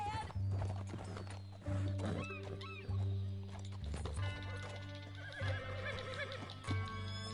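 Horse in the video game Red Dead Redemption, rhythmic galloping hoofbeats with repeated loud whinnies and game sound effects, several neighs spread through the stretch.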